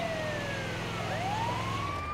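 Wailing ambulance siren in the video game GTA 5, sweeping up and down in pitch over steady vehicle rumble, moderately quiet and continuous without talk.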